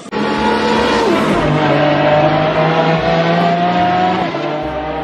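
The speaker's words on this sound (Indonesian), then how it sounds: "ini mobil balap warna merah teman-teman" A red toy race car gives off a steady, loud engine whine with shifting revving tones, continuous and close for several seconds with no talking over it.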